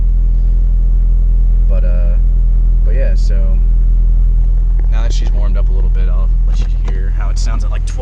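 A Honda Civic engine with an aftermarket header idles around 1200 RPM with a steady, deep low rumble throughout, while a person talks over it in short bursts.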